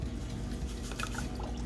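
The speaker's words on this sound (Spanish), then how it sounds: "voy a colocar acá 4 tazas de agua y 2 tazas de azúcar" Water poured from a cup into a pot for a cake syrup of water and sugar, a steady close trickle and splash that ends with a sharp clink.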